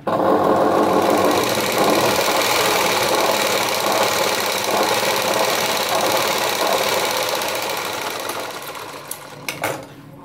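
A sewing machine stitches a blouse sleeve lining in one long, loud, close run with a steady mechanical whir, then slows near the end and gives a few clicks.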